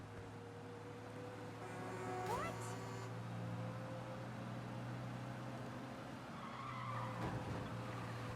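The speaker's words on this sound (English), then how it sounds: "We lose them by driving real fast and getting clear of them." Tires squeal as a car skids during a police chase in the Mafia Definitive Edition video game, a sharp screech over a steady engine drone, with another skid later and voices talking.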